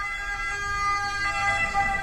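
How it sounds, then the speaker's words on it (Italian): An ambulance siren wails steadily, moderately close, its tone holding without pause over faint road noise. "io parto facendo l'intro e naturalmente arriva l'ambulanza."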